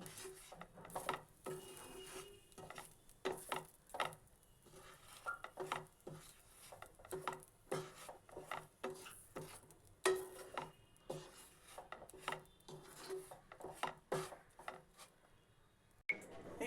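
Semolina being stirred into an oats batter in a pan, with repeated scraping and clinking strokes of a spoon against the pan in an uneven rhythm, fairly quiet and close, with no voice over it.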